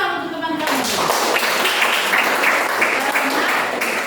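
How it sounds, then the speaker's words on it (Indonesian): Classmates clap together in a classroom, a dense round of applause that follows a brief moment of voice and carries on evenly to the end. "tepuk tangan untuk teman-teman"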